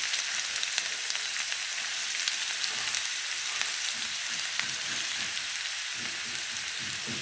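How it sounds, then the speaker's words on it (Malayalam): Onions sizzle and crackle steadily in hot coconut oil during tempering, a dense, even frying hiss with small pops that runs unbroken and fairly close, with no talking. "താളിക്കാൻ ആവശ്യമായ സവാള ഇട്ടെടുത്ത്"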